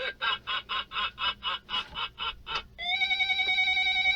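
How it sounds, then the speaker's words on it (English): A Nightmare Before Christmas prototype toy plays an electronic maniacal laugh in about a dozen rapid cackling bursts, then switches to a sustained buzzy electronic tone, close and fairly quiet. "it does some kind of maniacal laughing and this really annoying sound"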